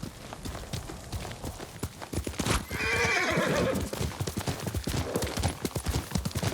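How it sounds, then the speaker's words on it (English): A horse in the samurai video game Ghost of Tsushima gives a loud whinny partway through, amid steady clip-clopping hooves and busy game ambience, with no speech. "Yuriko's horse. She can't be far."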